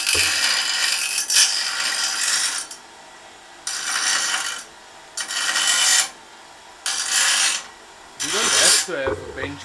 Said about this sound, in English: Let me get the grinder, the cutting.